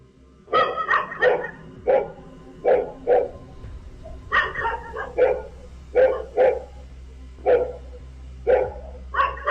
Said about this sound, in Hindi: यहां सड़क पर चलते इस शख्स को देखकर कुत्ते भौंक रहे थे